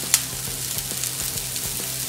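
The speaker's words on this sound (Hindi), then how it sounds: "दो तीन मिनट सब्जियों को भूनने के बाद अभी हम ये मसाले इसमें ऐड करेंगे।" Vegetables sizzle in a pan over a high gas flame as they are stir-fried for bread pizza pockets, a steady close hiss with soft rhythmic stirring scrapes.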